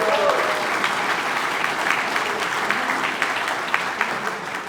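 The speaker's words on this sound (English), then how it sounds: "Let's give him a round of applause." Audience applause at a California Wrestling Hall of Fame lifetime service awards ceremony, a dense, steady clapping from a crowd lasting the whole stretch with a faint voice at the start.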